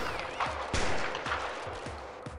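Gunfire in the prison-management game Prison Architect during an armed escape with a van: a steady volley of shots, several rhythmic cracks, moderately loud and slightly distant, over a busy background with no talk.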